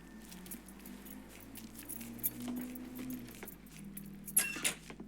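Keys jangle and clink in short bursts as they are picked up in the video game Mafia III, heard close over a low steady vehicle or engine hum.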